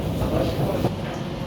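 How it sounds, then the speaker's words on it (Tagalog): A green MTR train pulls into a busy Hong Kong station platform, its steady rumble and rolling wheel noise filling the space with a dense, continuous wash of sound. "ayan na po yung tren na kulay green"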